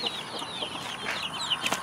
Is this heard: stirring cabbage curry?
no